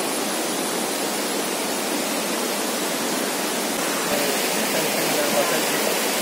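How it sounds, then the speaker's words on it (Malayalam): Rushing water at Aanachaadi waterfall in Kerala roars as a steady, dense, unbroken wash that holds at an even loudness throughout, with no voices over it. "അപ്പോ ഇതാണ് വെള്ളച്ചാട്ട്."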